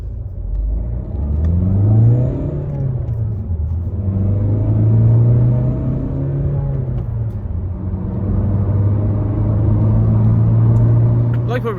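2018 Honda HR-V 1.6 i-DTEC diesel accelerating on the road toward a motorway, a low engine drone rising and falling in pitch through gear changes over continuous road rumble.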